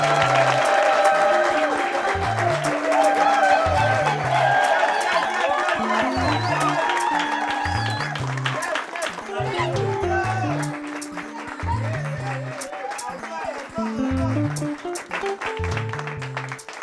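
Wedding guests applaud as the newlyweds arrive at a crowded reception, with sustained clapping and crowd noise mixed with loud rhythmic music and voices throughout.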